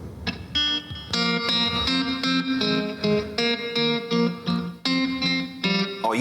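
Electric guitar playing the intro to a 1988 song: a bright, effects-laden clean tone with chorus-like shimmer and echo, chiming chords and melodic notes in a steady, flowing rhythm, loud and close.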